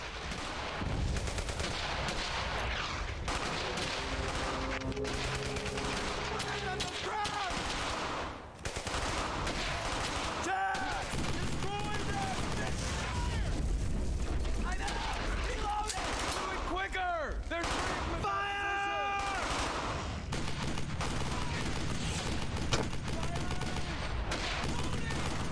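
Gunfire from Brothers in Arms: Hell's Highway, a World War II shooter, with rapid bursts and single shots crackling continuously over about 25 seconds, mixed with shouted voices in the battle.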